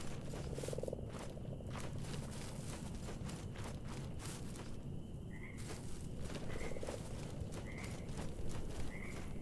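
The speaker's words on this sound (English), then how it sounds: "Oh, and the frogs are here." Frogs croak repeatedly in the video game Mortal Shell, a series of short chirping croaks spaced about a second apart over a dense, clattering ambient bed.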